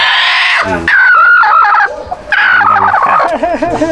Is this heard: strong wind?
no